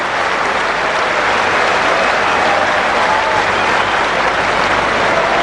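Steady applause from a cricket crowd and teammates at an England versus Australia one-day international, continuous massed clapping at constant loudness throughout.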